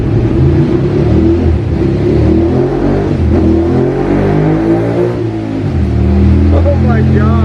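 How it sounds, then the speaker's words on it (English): Ducati 1198 motorcycle with a full exhaust system revving on a dyno, a loud, close, raspy engine climbing and dipping through the revs, with a voice briefly heard near the end. "Brian's putting a 1198 on the dyno right now. It's got a full Turby system"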